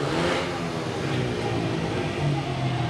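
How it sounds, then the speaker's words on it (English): Speedway motorcycles at the start line of a Poole Pirates versus Glasgow Tigers championship meeting roar loudly and steadily, their engines revving together in a dense, sustained mechanical drone. "So the engine noise rises, the starting marshal moves away"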